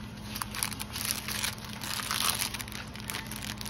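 A plastic bag holding diamond painting gems crinkles steadily and continuously during an unboxing. The rustling is close and moderately loud, with no talking over it.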